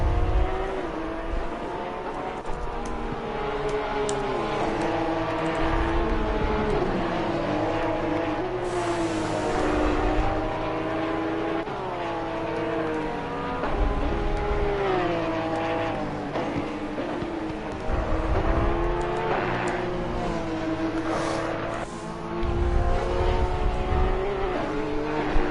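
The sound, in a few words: race cars driving in the video game Assetto Corsa Competizione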